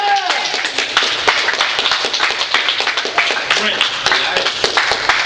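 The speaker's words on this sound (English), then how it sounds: "Let's get the round of applause for the organizer" Audience at a live beach broadcast in Long Beach clapping for an event organizer, a steady patter of many hands with scattered shouts and cheers, voices talking throughout.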